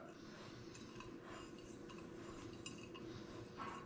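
Brown sugar and salt stirred together in a bowl, a soft continuous gritty scraping and rubbing with faint light clinks of the utensil against the bowl, close and quiet.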